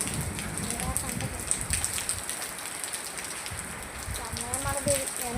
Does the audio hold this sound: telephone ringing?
no